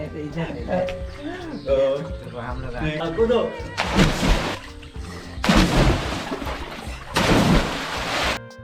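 A person jumps into cold water in a village well, with three loud, broad splashing bursts after talk at the start.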